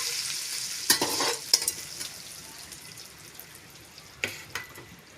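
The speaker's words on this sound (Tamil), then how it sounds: "கலந்து விட்டுக்கலாங்க." Lemon juice is stirred into a hot pan mixture for lemon rice, with a soft frying hiss under a few distinct scraping strokes of a spoon against the pan, close by and fairly quiet.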